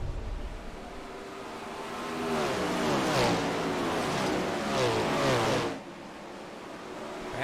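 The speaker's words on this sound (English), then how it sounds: "410 sprint car drivers hammering that outside loop." A field of 410 sprint cars hammers around the outside line of a race track, their engines roaring loud and steady, swelling and fading as the pack passes, with no voices.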